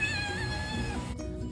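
A hungry cat gives one long, drawn-out meow close by, begging for food while fish boils for its breakfast in the kitchen, ending in a brief soft thump.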